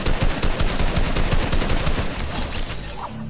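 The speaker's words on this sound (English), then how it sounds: "Oh, now you wanna shoot him?" Rapid automatic gunfire in a duo shooter video game, dense and loud, with bursts of shots rattling continuously with almost no pause.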